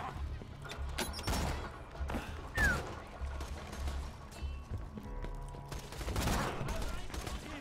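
Rapid gunfire in the shooter game Borderlands 2 is aimed at a sniper, with repeated sharp shots in dense bursts over a steady low game rumble and scattered effects. No speech accompanies the firing.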